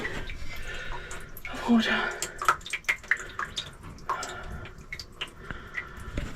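Water dripping and trickling inside a sailboat from a leak after the seacock was shut, with scattered close drips and splashes while a person talks over it.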